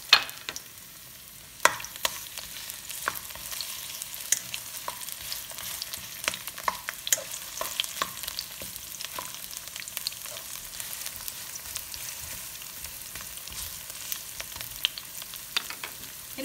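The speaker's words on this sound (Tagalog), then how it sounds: "Mainit na po yung mantika, so ilagay ko na yung ating sibuyas." Onions sautéing in hot oil for Filipino ampalaya con carne give a steady, moderate sizzle, with sharp clicks and scrapes of a utensil against the pan scattered throughout; no one speaks.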